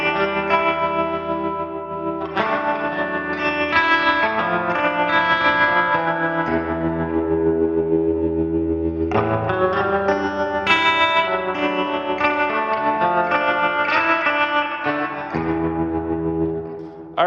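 Electric guitar driven hard through a DS1 distortion pedal with heavy reverb washing out the notes, loud sustained chords and phrases ringing continuously with short breaks between strums, no voices.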